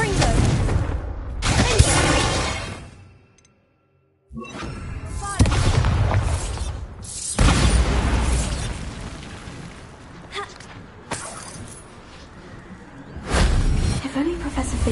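Confringo explosion spell cast in a Harry Potter video game: loud booming blasts recur across the stretch, separated by a brief silent gap, with spell effects and game sound layered throughout.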